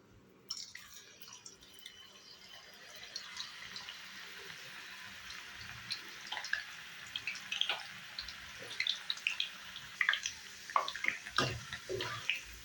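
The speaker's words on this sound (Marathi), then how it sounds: "आता यामध्ये आपण थोडे थोडे करून हे चिप्स तळून घेऊयात" Banana chips deep frying in hot oil, a bubbling sizzle that builds from quiet to busy, with scattered sharp pops and crackles, heard close with no talking.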